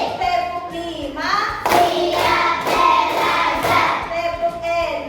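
Rhythmic counted hand clapping by a class of children during a morning lesson, sharp claps in steady groups with a teacher's voice and children's chanting over them throughout.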